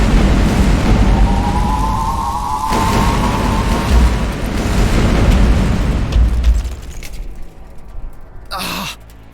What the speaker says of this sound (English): Get out the station cannons.